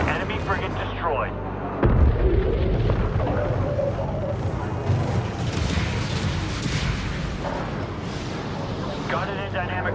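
An enemy frigate is destroyed in a Homeworld 3 space battle: a sudden heavy boom, then a long, dense rumbling roar with crackling bursts. Radio-style voices talk under the blast.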